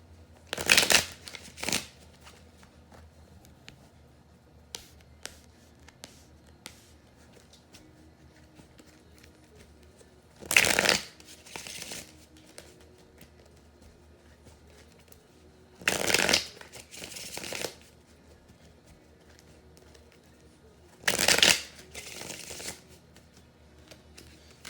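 Tarot cards being shuffled and spread, in four separate bursts of crisp riffling spaced several seconds apart, close and clear over a quiet room.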